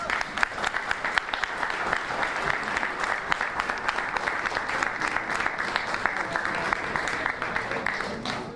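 An audience at a Saint Michel celebration held by a paratrooper commando association applauds steadily for several seconds, a dense wash of many hands clapping at moderate volume without any talking.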